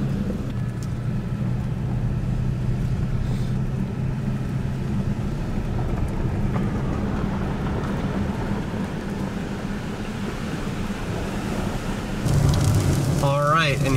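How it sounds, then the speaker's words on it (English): Steady rain falls on and around a parked car in a New Jersey woodland, a dense even hiss with a low drone beneath, closing with a brief louder patter and clatter near the end. "Here is the rain we were expecting"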